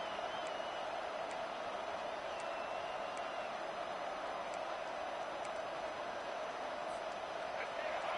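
Crowd at a football game rumbles as a steady, distant roar of noise that fills the whole stretch evenly, with no distinct cheers or claps standing out.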